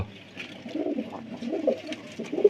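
Pigeons, a prized Andhra breed kept as hobby birds, coo softly and repeatedly close by, low throaty calls with no talking.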